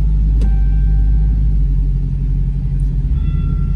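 A Dodge Challenger Hellcat engine pulls with a deep, loud rumble heard from inside the car, holding a steady low drone with a few brief sharp clicks on top.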